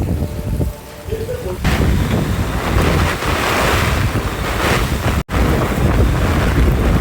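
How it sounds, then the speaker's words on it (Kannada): Strong wind and heavy rain lash down during a Bangalore thunderstorm, a loud, roaring rush of gusts and downpour buffeting the microphone, with a brief dropout near the end. "ಎಷ್ಟು ಜೋರಾಗಿ ಬರ್ತಾಯಿದೆ ಗಾಳಿ"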